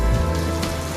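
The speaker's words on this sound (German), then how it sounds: "Es regnet." Rain falls steadily outside a window in a capital city of Ivory Coast, a dense, even patter close by with no voices.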